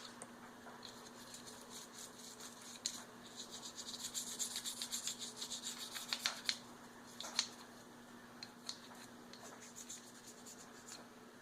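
Soft scrubbing of Frog Lube into gun metal with a brush, a busy stretch of quick rubbing strokes in the middle and quieter intermittent scrubs around it, close up and with no talking.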